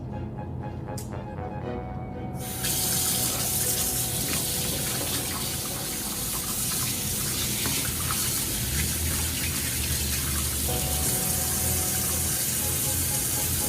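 Water pours steadily from a tap while dyed costume fabric is rinsed, a loud continuous close gush with a shifting splash as the fabric is worked under the flow, with no voices.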